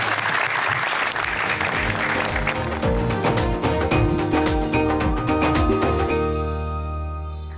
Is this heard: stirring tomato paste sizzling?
no